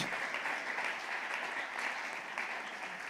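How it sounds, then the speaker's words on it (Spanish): A church congregation gives the Lord Jesus a loud, sustained round of applause during a Sunday sermon, steady dense clapping filling the room for the whole stretch with no voices over it. "Denle ese aplauso fuerte al Señor Jesús."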